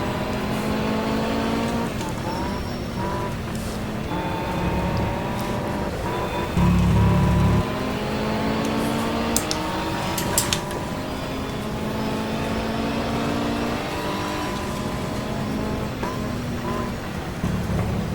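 A 1987 British Touring Car Championship race car at Brands Hatch pulls back out of the pits, its engine droning loud and near with rising and falling revs and gear changes, and another car passing close by.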